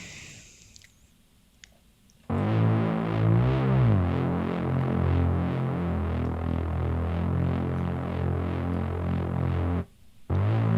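A thick, buzzing, distorted Reese bass synth drone holds steady for several seconds, gritty and loud, then cuts off abruptly near the end.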